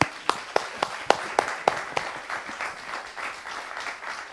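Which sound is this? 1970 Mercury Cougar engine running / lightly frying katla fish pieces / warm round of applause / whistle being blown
warm round of applause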